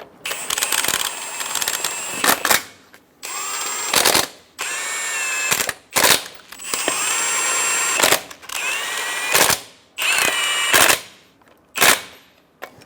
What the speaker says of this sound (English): Snug the lug nuts down.